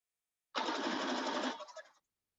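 A sewing machine or serger stitches a folded, serged hem on the end of a pair of bell-bottom pants: a steady, close mechanical whir running for about a second and a half, then a brief stuttering slowdown before stopping.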